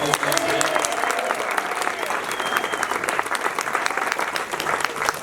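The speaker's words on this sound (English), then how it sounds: "please join me in giving them a round of applause" Sustained applause from a gala audience, dense and fairly loud clapping that fills the room evenly, with murmured voices mixed in beneath.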